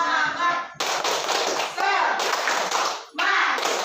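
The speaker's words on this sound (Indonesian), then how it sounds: "1, 2, 3, tepuk semangat." Indonesian primary classroom running its rhythmic "tepuk semangat" clapping routine, bursts of loud group clapping broken by brief pauses, with children's voices mixed in.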